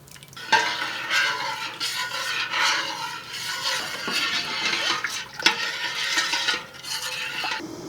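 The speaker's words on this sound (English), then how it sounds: "My honey and my water has been simmering for about 5 minutes." About four cups of honey and water simmering in a pot for cranberry jam in Alaska: a steady, close bubbling hiss with occasional clinks and stirring scrapes, with no talking.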